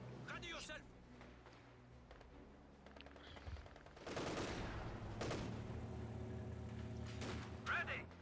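MG34 machine gun fire in the Company of Heroes 2 video game: bursts of gunfire and explosions under a caster's commentary, with heavy sustained firing in the second half.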